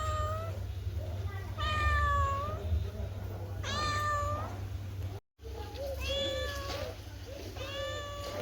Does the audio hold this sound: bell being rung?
no